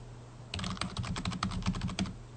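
Rapid keystrokes clatter on a computer keyboard, a quick irregular run of light clicks up close, starting after a short quiet moment.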